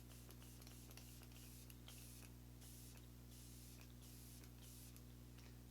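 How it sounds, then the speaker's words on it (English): Setting spray misted onto a face from a Super Setter long-lasting makeup spray bottle, heard as several soft, close hissing bursts in a row over a steady low background hum. "So we're gonna spray."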